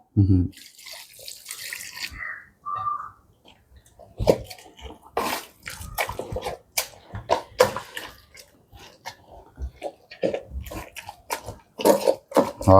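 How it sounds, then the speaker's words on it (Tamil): Water is poured from a tap into mashed wood apple pulp in a bowl in a village kitchen, a running, splashing pour heard close up amid wet squelching and scattered handling noises. "தண்ணி விடுவோம்"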